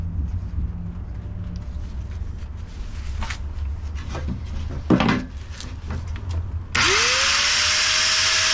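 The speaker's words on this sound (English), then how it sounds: "I need to cut this to adjust the saw blade to 1/4 inch." A power saw is used to cut wood while building a cabin room. Scattered knocks and handling clatter come first, then the saw motor whines up sharply and roars loud and steady up close.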